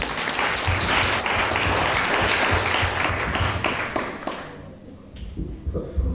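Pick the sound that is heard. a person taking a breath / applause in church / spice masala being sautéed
applause in church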